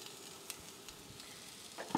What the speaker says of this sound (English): Love that sound of a sizzle immediately.